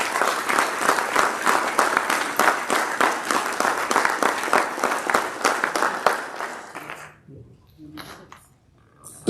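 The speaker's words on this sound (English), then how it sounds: "now with an enthusiastic round of applause, let us welcome Mr. Goodwill" Audience at a formal launch ceremony for a tertiary institutions entrepreneurship scheme claps enthusiastically in a rhythmic round of applause, then it breaks off abruptly after about seven seconds, leaving near silence with faint sounds.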